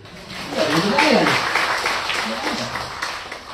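Indonesian students in Taiwan applaud during a speech, clapping mixed with a voice speaking over it, fairly loud and fading slightly toward the end.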